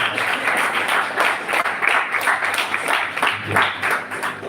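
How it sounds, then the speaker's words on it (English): An audience at a lecture demonstration applauds the artists, a dense, steady patter of many hands clapping in a hall for several seconds. "A big round of applause for all the artists who gave us this."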